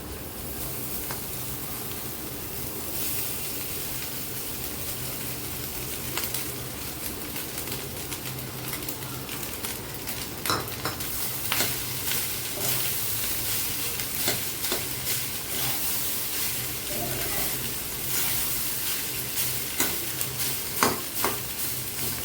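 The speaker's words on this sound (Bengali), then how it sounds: "এখানে 1 বাটি রাইস আমি নিয়েছি, সেই বাটিটা রাইসটা আমি এখন দিয়ে দিচ্ছি।" Cooked rice being stir-fried in a pan for restaurant-style vegetable fried rice, steady close sizzling with scraping stirs and spatula clinks that grow busier toward the end; birds coo faintly in the background.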